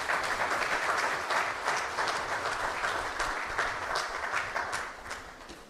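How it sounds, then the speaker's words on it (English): An audience at the official opening ceremony of SEOGS 2023, an oil and gas summit, applauds the investors with steady, dense clapping that holds for several seconds and fades slightly at the end. "let us applaud these investors also in Suriname"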